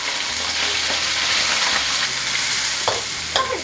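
Meat stir-fried in a wok at home, with a loud, continuous close sizzle and a few quick scrapes of the spatula near the end.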